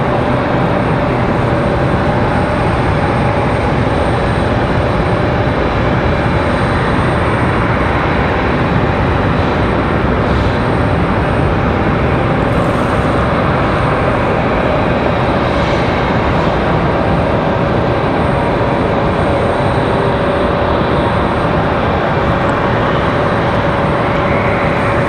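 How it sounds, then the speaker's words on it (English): An Airbus A220 airliner departing Raleigh-Durham airport, its engines making a steady, loud broadband roar with a faint tonal whine. The sound holds evenly through the whole stretch, with no voices. "Another A220, we're ready for departure."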